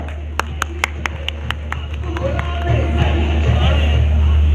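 A few claps ring out at a Pakistan Tehreek-e-Insaf worker convention in Attock, starting as sharp separate hand claps and then blending into crowd murmur and a broader spread of applause in a large room.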